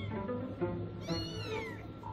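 A blind kitten meows twice in quick succession, high and thin, close by and fairly quiet against a soft room background.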